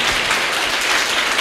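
Audience at a children's quiz program applauds to welcome the school's owner, a dense, steady wash of many hands clapping with no break.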